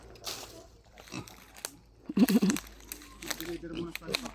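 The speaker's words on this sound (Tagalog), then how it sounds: "Tignan natin yung pig." Black and brown pigs grunting and squealing in a rural province, short snorts and a clear squeal midway, close by, mixed with rustling and a person talking over them.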